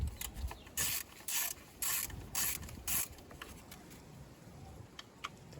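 A ratchet turns a T40 Torx screw holding the idle control valve to the intake manifold of a BMW M52TU/M54 engine, five short rhythmic ratcheting bursts close up, then quieter clicks and shuffling.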